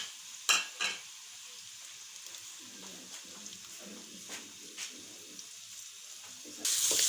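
Onion frying in oil in a kadai, a soft low sizzle with a couple of sharp spoon clinks near the start and scattered quieter scrapes of stirring, then a louder burst at the end.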